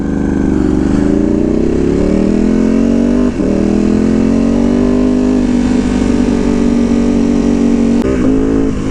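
A Ducati Panigale V2 sport motorcycle engine with a Vandemon full exhaust and dB killers revs loudly and steadily up close, its deep exhaust note rising and holding with a brief dip before climbing again.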